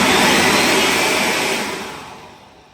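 An electric ducted fan turbine driven by a 22.2 V motor whines in a loud, airy rush, then winds down and fades over the final second.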